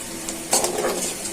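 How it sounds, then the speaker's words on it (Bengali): Tomatoes hitting a hot frying pan during beef noodle cooking, giving a brief burst of close sizzling and stirring that swells partway through and then settles into a steady hiss. "এখন টমেটো গুলো দিয়ে দিচ্ছি"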